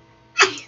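A single short, sharp sneeze bursts out close by after a moment of quiet.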